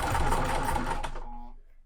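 A sewing machine stitching cotton fabric at a quarter-inch seam for quilt piecing, running in a fast steady whir close up, then slowing and stopping within about two seconds.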